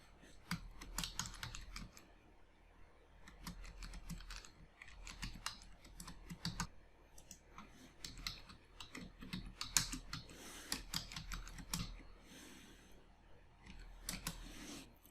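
Fast, uneven typing on a computer keyboard, keys clacking steadily and close up for a long stretch, with no talk over it.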